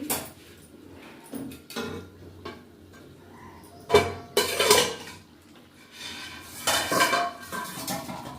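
A metal lid comes off a pot of simmering Bengali chicken kosha curry, with several sharp clanks and scrapes of metal on metal, nearby and fairly loud, between quieter clinks of cookware.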